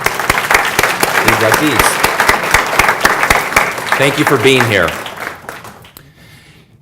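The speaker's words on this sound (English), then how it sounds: "So we will now applaud these" Audience applauding hall of fame inductees at a county business awards event, steady sustained clapping from a roomful of people under a speaker's voice, fading out at the end.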